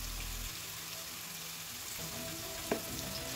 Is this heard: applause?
no